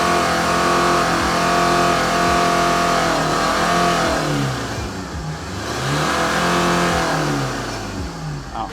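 A 3.5-year-old Maruti Ritz engine idles after a cold start and then revs several times, each rise and fall clearly audible and loud, close to the car with nobody speaking.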